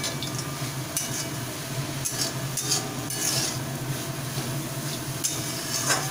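Fried lentil dumplings (bori) are stirred into radish in a pan, with repeated scraping and clattering strokes over a low, continuous sizzle.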